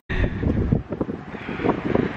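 Wind blows hard against the microphone outdoors, a loud continuous rumbling buffet that rises and falls in gusts for the whole stretch.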